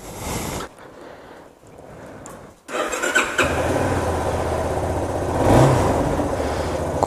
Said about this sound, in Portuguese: faz uma era que eu não ligo essa moto.